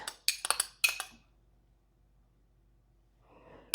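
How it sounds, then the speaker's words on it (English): A spoon scrapes and clinks against a small dish while homemade rice pudding is served, four or five bright close taps in quick succession followed by quiet and a soft final clink. "Just going to put some in a little dish here and let it cool for a second."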